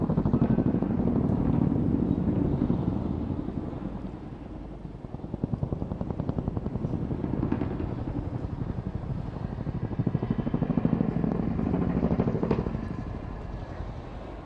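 A large twin-rotor RAF Chinook helicopter with 60-foot rotor blades and two Textron Lycoming engines thumps loudly overhead at an airshow, its rotor beat pulsing steadily with a heavy engine roar that swells and eases.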